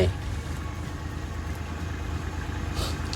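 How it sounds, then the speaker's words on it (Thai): The diesel engine of a Kubota L3408 4WD tractor fitted with a front blade and a breaking plough idles steadily. The even mid-level drone is fairly quiet and continuous. "เครื่องยนต์สตาร์ทติดง่ายนะครับเครื่องปกตินะครับ"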